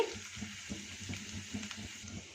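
Gram flour roasting in oil in a pan with ginger garlic paste, a soft, faint sizzle with gentle stirring scrapes at an uneven rhythm, heard alone.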